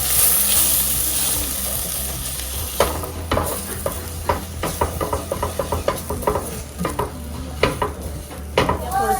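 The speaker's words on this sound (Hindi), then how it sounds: "फिर इसमें आप ये 2 टेबलस्पून वाइट फ्लावर डाल दें, तो अच्छी तरह भुनें" White flour roasts in a pan with garlic and onion, a close steady sizzle under repeated scraping and clinking stirs from a utensil against the pan.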